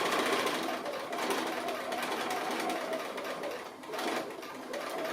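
A sewing machine runs steadily, stitching a mini snap Christmas stocking, with a continuous close whirring hum that barely pauses across the whole stretch.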